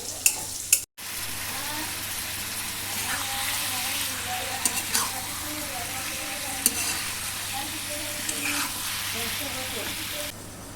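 Cabbage with prawns fries in a pan with no spices, giving a steady close sizzle and hiss across the whole stretch, with a brief dropout near the start and occasional stirring clatters.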